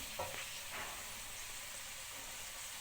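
Minced meat and peas frying in a pan with yogurt stirred in, a steady close sizzle and hiss with a couple of brief stirring scrapes near the start.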